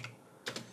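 Typing at a computer keyboard while entering a command into a Windows 10 command prompt: a couple of close, crisp key clicks after a quiet pause.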